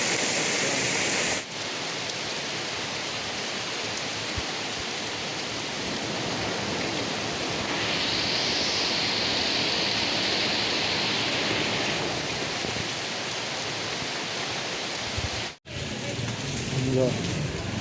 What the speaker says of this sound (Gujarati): ફૂલ વરસાદ આવ્યો છે